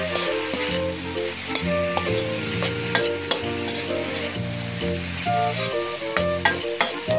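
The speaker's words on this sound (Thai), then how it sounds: "จากนั้นก็ทำการผัดให้เข้ากันนะครับผัดให้เครื่องเข้ากันนะครับ" An egg stir-fry sizzles in a pan with scraping, clicking spatula strokes as it is tossed, set against tonal background music; no one speaks.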